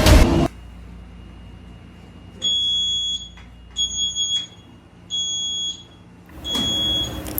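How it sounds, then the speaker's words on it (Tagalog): A smoke detector alarm beeps in four short, shrill bursts with pauses between them, loud and close, over a low background hum. "Ang smoke detector ay isang alarm device na tumutunog kung may na-detect na usok sa paligid."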